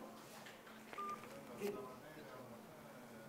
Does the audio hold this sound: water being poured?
no